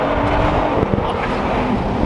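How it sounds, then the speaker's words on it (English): Car with an aftermarket exhaust heard from inside the cabin, a steady loud engine drone with a brief bump near one second, wind noise throughout. "I wanted to hear this exhaust in person"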